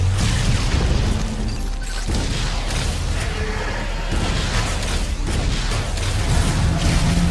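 A missile explosion in Metroid: Other M, a loud, dense booming roar that carries on without a break, with deep rumbles and bursts layered through it.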